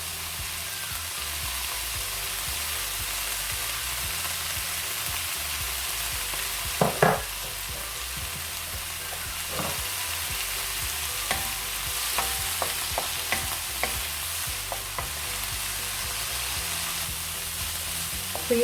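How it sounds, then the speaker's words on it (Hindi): Vegetables and sweet corn fry in a pan for pastrami pasta, giving a steady close sizzle with occasional sharp clicks and scrapes of stirring, and no talking. "सब्जियों को मैंने तकरीबन 2 से 3 मिनट तक ही इनको फ्राई किया है"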